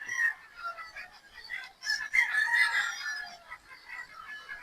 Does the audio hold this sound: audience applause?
no